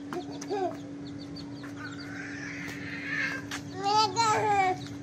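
Chicks at a mini zoo, with high peeping chirps and clucking calls coming in short bursts close by, mixed with people talking.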